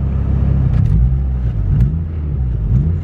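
A turbocharged Honda D-series single-cam engine revs under throttle, a loud, close rumbling roar that swells and falls in a few quick blips with no talking over it.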